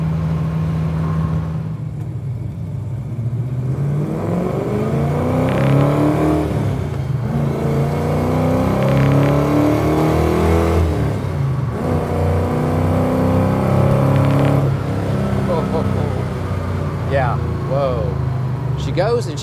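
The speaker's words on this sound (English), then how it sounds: "It sounds beautiful inside this car." Engine of a 1967 Ford Mustang Fastback pulling hard under acceleration on a test drive, heard from inside the cabin as a steady, rising drone, with someone talking over it throughout.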